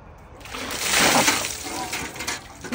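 Water splashes onto a face during a cold-water hardening wash, one close, bright wet splash that swells and then trails off in smaller splatters.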